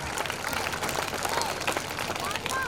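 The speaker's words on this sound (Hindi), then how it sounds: "जोरदार तालियां।" Steady applause from a large crowd at a Republic Day school prize distribution, a dense wash of clapping that holds at an even level throughout, with faint chatter mixed in.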